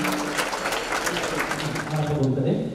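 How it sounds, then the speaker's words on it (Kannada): Loud applause from the audience at the inauguration of a new college building, a dense, sustained wash of clapping that keeps going to the end and thins slightly at the finish. "ಜೋರಾದ ಚಪ್ಪಾಳೆ ಮೂಲಕ ಈ ಶುಭ ಕಾರ್ಯಕ್ರಮಕ್ಕೆ ನಮ್ಮ ಸಹಕಾರವನ್ನು ನೀಡೋಣ"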